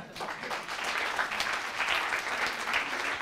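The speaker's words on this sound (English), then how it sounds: "let's give a big round of applause to our wonderful first-year students" An audience at a university entrepreneurship evening applauds first-year students, steady, moderately faint clapping from a room-sized crowd that holds throughout without speech.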